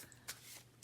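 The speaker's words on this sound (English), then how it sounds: "Now I'm going to shuffle the Whisper in the Ear Oracle" Whisper in the Ear Oracle cards are shuffled in quick, soft riffling bursts, two brief rustles close but faint, with no talking.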